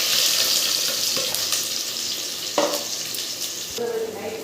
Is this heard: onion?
yes